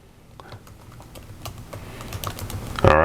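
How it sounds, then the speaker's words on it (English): Typing on a computer keyboard at a Mac setup, rapid irregular key clicks building in pace over a few seconds, close and fairly quiet, ending with a louder rustling burst. "So go ahead and type that in."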